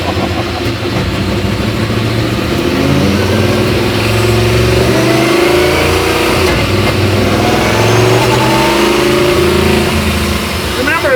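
An INDYCAR-powered Martini Mustang Fastback accelerates hard nearby, its engine climbing in pitch through several sharp gear shifts, each a quick drop before rising again, loud and continuous.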